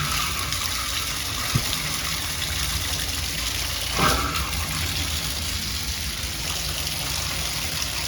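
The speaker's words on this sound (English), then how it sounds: "The water's back on." Water rushes steadily through shower pipes just turned back on, with a constant hiss, a couple of faint knocks or gurgles from air in the line breaking the flow.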